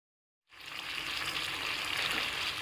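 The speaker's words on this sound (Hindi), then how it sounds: "देखें यहाँ पर पानी खुश्क होने की आवाज़ आप सुन सकते हैं" Masala chicken sizzles steadily on a hot tawa as its water cooks off: a loud, even frying hiss that starts abruptly after a short silence and carries on without pause.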